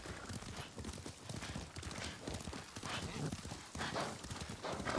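Horse hooves clip-clop steadily in Ghost of Tsushima as a rider travels at an even pace, rhythmic and fairly close, with faint game ambience and no one talking.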